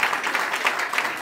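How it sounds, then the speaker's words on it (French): Audience at a press conference for the Festival Nord du Mali claps steadily, a brief, fairly loud burst of many hands with slight swells in intensity. "Applaudissez."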